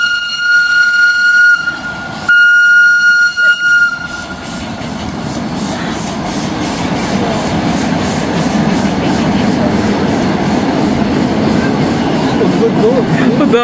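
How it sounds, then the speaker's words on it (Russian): A train rolls past close by with a steady, heavy rumble and clatter of wagons, after a brief horn-like tone at the start. "Умчался поезд."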